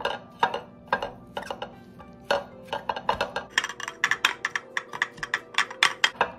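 Green papaya salad being mixed and crushed with dressing using a pestle, heard as irregular sharp clacks and knocks of utensil against bowl that quicken into a rapid, rhythmic pounding, close and fairly loud with no talk.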